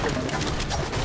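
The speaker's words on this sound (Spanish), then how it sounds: "Tiros aquí, cuidado." Rapid bursts of gunfire in the battle royale game Fortnite crackle through a dense, busy mix, with voices faintly present underneath.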